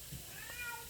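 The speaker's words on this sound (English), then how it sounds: "Excuse my cat in the background." A house cat meows in the background, a single short, faint call heard from a distance over quiet room tone.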